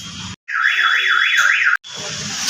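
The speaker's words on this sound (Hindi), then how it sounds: "ये दरवाज़ा खोलते ही इसके अलार्म बजने लग गया" The anti-theft alarm siren on a Suzuki Celerio goes off loud and close, a warbling tone that sweeps up and down, broken by brief gaps and set against background noise.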